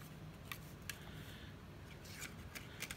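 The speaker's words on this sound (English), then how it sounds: "I'm just going to use the punch itself and just punch some random butterflies" A handheld paper punch cuts butterfly shapes from scrap paper, giving a handful of crisp, quiet snaps and clicks spaced irregularly over faint rustling.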